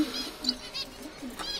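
Pet pigeons call in soft, short coos and chirps nearby, several brief notes in quick succession with faint rustling between them.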